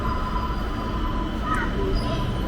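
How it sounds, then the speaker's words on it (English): Green train pulling in at a station in Lima, Peru, a steady loud rumbling roar of rolling wheels with a brief faint squeal, continuous throughout. "And here comes the train"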